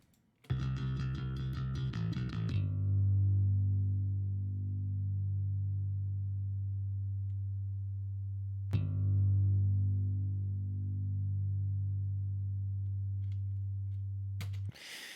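Bass guitar notes with volume automation, two long sustained low notes, each opening with a bright attack and then slowly fading, separated by a short gap and heard alone without talk.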